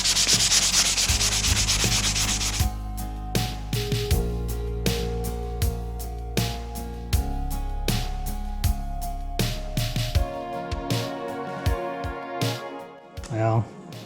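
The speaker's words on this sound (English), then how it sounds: "I'm just going to rub it down and see if that'll get rid of them." Hand rubbing down a stained pine door, a steady dry scratchy abrasion repeating in short strokes with small knocks, close and fairly quiet, running alone with no talk.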